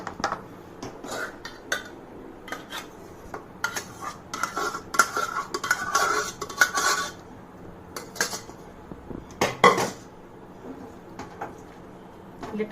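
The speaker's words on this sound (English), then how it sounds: "Let us give it a toss so the veggies get mixed with the khichdi well." Vegetables and khichdi being tossed in a pot give scattered metallic scrapes and clinks of a utensil against the pot, close and irregular, with bursts of stirring and pauses between.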